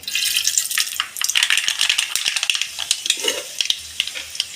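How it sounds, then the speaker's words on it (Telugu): Seeds sizzle and crackle in hot oil in a kadai, a loud close frying hiss with dense spitting pops and a few light metallic clinks of a spoon, no voices. "ఆయిల్ అయితే వేడెక్కింది ఇప్పుడు అందులో ఒక స్పూన్ త్రిమాల గింజలు"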